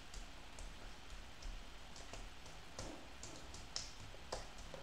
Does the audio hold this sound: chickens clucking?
no